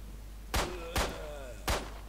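Three sharp gunshots in the video game STALKER Lost Alpha, spaced about half a second and then three quarters of a second apart, each followed by a thin whining ricochet ring that trails off over faint background ambience.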